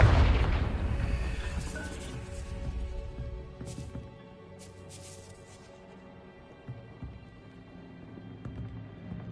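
A Confringo blasting curse explodes in Hogwarts Legacy, a loud booming burst up front with a rumbling tail that slowly decays over several seconds beneath game music, with a few faint later crackles.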